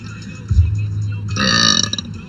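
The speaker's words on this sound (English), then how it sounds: "I did a burp" A girl lets out a loud, drawn-out burp close to the microphone, rumbling on for nearly a second after a brief lower belch.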